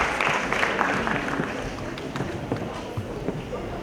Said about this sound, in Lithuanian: Jūsų plojimai šiam mažam komandam